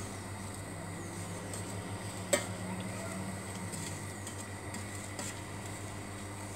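Butter and sugar melting together in a pan on a gas hob, with faint sizzling and a few soft stirring scrapes under a steady low hum, plus one sharp clink of utensil against pan.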